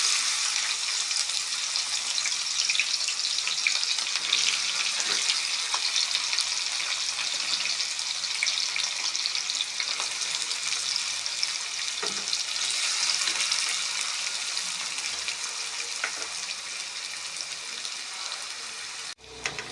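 Onions frying in a pan for a prawn tomato curry, a steady bright sizzle lasting throughout with occasional stirring scrapes and clinks, close and continuous, no talking.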